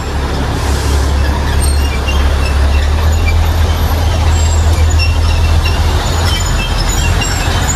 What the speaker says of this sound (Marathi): आम्ही इथं जस्ट पोहोचलो आणि ट्रेन पण आले.